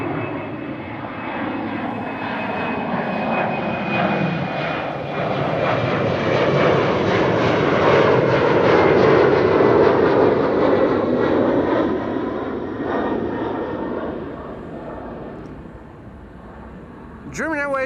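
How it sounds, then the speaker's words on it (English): A German Airways Embraer 190 jet flying for KLM to Hamburg departs Schiphol's Kaagbaan runway 24, with a loud, steady engine roar that builds, peaks mid-clip and recedes, while a person talks over it. "German Airways flying on behalf of KLM, Embraer 190 to Hamburg"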